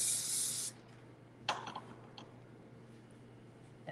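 Hairspray sprayed onto a section of hair in a ponytail style, one short, close, sharp hiss at the start, followed by faint rustling and light handling noises.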